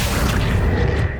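A Confringo explosive spell from Hogwarts Legacy bursts in one loud, sustained boom with a rushing whoosh, fading slightly at the end.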